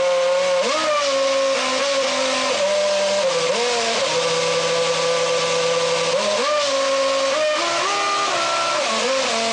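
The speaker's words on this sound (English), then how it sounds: "Have you ever heard it played on a Formula One engine?" A Renault Formula One engine revs up and down in stepped pitches, playing a melody, loud and continuous with a buzzing, whining tone.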